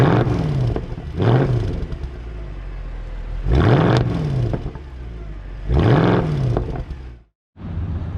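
A 2017 Audi A4 TDI Quattro diesel engine revs loudly three times in a row, each rise and fall in pitch clear over a steady idle, followed by a brief cut and return of the idle.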